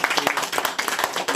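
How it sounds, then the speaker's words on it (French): Church congregation clapping in rhythm, quick sharp claps close by with voices mixed in. "On applaudit."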